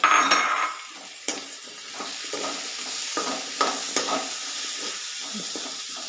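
Chopped snake gourd sizzles in a hot pan as a spoon stirs it, with scraping clicks and clanks against the metal over a steady frying hiss, and nobody talks.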